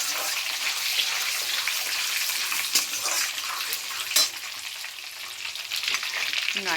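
A spatula stirs a five-spice tempering in a wok, steady frying sizzle with a few sharp scraping clicks of metal against the pan, close and continuous with no talk.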